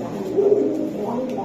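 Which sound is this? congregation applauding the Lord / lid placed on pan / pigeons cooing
pigeons cooing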